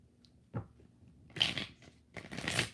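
Tarot cards shuffle in a few soft, brief riffling bursts, close and quiet, with gaps of near silence between them.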